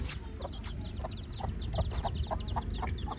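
A desi hen clucks repeatedly in short, regular calls close by, over a steady low background hum.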